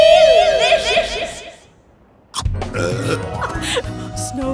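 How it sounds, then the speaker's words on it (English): A cartoon yeti lets out a long, loud, rumbling burp after eating snow high on Mount Everest, followed by a pause and then bursts of chuckling and lively chatter. "Snow burps."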